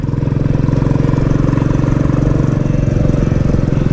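A motorcycle engine drones loud and close with a steady, pulsing low throb as the bike climbs the hill road at Pitra Parvat in Indore, with no talk.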